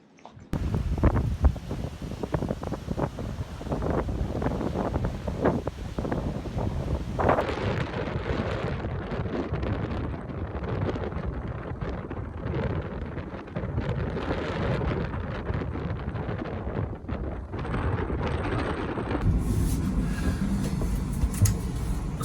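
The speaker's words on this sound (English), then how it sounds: "It's going to be windy like this tomorrow when we leave." Strong wind buffets the microphone at a marina in British Columbia in winter storm season, a loud continuous roaring rumble with gusty swells and shifts in tone throughout.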